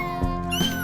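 A kitten on its twenty-seventh day gives a short, clear meow of under a second, close to the mic, with a second rising mewl toward the end over faint background noise.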